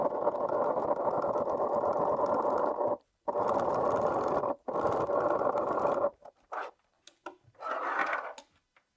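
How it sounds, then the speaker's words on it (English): A sewing machine stitches a second line along the binding of a bag, running in a loud, steady mechanical whir that stops and restarts, then breaks into short bursts at close range with no talk. "I am going to stitch a second line, and I'm just going to try to stitch in the same holes as my binding piece up here."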